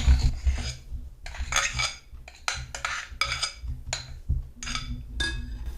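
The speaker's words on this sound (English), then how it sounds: "now we're gonna take this mixture and we're gonna mix it in with the ricotta mixture" Mixing a mixture into ricotta for cannoli with a scraper in a bowl, repeated scraping and rasping strokes with faint clinks against the bowl, in an uneven rhythm of short close-up scrapes.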